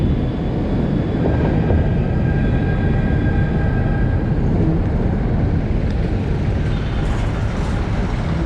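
A train rumbles past, steady and loud throughout, with a broad low roar and faint squealing tones from the wheels, no voices.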